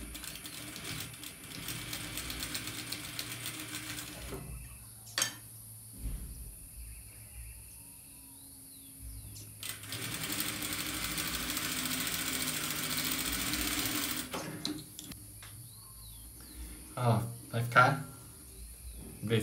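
A sewing machine stitches a Christmas quilt block in short runs, with a longer steady motor whir in the middle, separated by quiet pauses and a few handling knocks.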